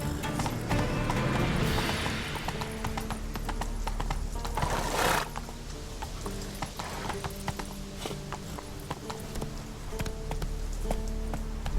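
A horse in The Witcher 3: Wild Hunt galloping with rapid, rhythmic hoof clip-clops over a steady loud rumble, with a whinny and the creak of tack, continuing throughout.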